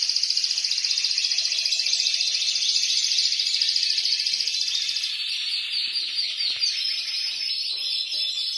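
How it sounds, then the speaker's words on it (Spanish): Bred songbirds, likely timbrado canaries, sing a continuous, dense, rapid trilling song, close and steady, with the rolling pattern shifting partway through and no voices. "el que entiende de pájaros entiende sobre todo de canto"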